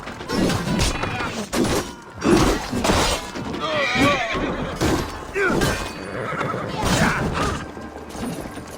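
A horse neighs and whinnies several times over a busy, loud Assassin's Creed Valhalla Siege of Paris battle soundscape of thuds and clatter, with voices talking throughout.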